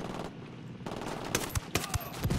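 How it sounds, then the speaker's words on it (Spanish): Rapid bursts of gunfire and explosions from the Ghost Recon video game crack out in clusters, loud and close, with sharp transient hits over a dense noisy battle backdrop. "con tanta explosión no puedo"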